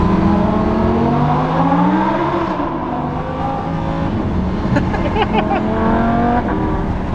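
A 1016 Industries Lamborghini Huracan revs hard inside a tunnel, its loud, echoing engine note rising and falling in sustained sweeps, with crackling pops toward the end.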